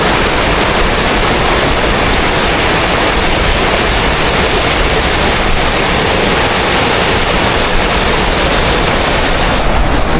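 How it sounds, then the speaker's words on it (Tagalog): Gardner Falls, a waterfall beside a road near Nakusp, roars as a dense, loud, unbroken rush of falling water, close by and steady throughout with no other sounds. "Ang tawag sa falls na to ay Gardner Falls."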